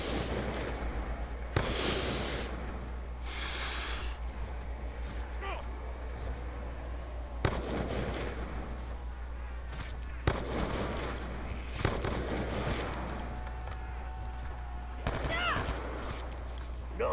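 Gunfire in Call of Duty Black Ops 2 Zombies, scattered sharp shots and short bursts spaced across a low droning background, with a character's voice speaking between volleys.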